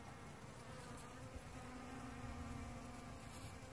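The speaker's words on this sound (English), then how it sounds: "These bees are just going absolutely bonkers right now." Bees buzz busily around blooming dragon fruit flowers, a steady close drone with overlapping wingbeats rising and falling as insects move near, alone without talk.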